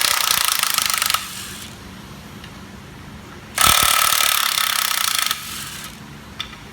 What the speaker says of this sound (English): I'm going to take my electric impact, set it on reverse